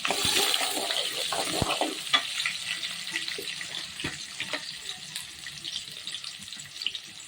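Onions and curry leaves sautéing in hot oil with popped mustard seeds, a close, busy sizzle with intermittent scrapes and stirs of a spoon against the pan.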